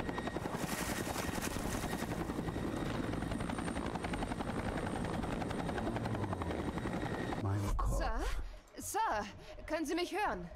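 A helicopter in the video game XIII Remake gives off a loud, steady rotor chop for several seconds, then cuts off abruptly and a voice starts talking.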